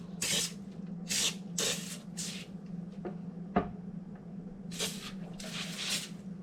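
A spray bottle hisses cleaner into a slow cooker in a series of short bursts, several quick squirts in a row, then a pause, then more bursts, with a faint background hum and a small knock midway.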